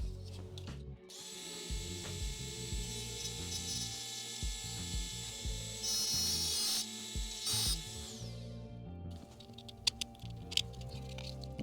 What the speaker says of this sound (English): We're gonna grind that off.